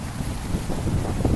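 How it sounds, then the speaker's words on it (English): Gusts of wind buffet the microphone outdoors in California, a low rumbling, flapping roar that swells and dips over a brief moment with no other sound standing out. "And yes, it is windy right now."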